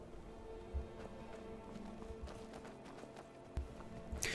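Horse hooves clip-clop in the video game Skyrim, a faint, irregular sequence of soft hoof thuds with a few sharper knocks near the end, a voice speaking briefly.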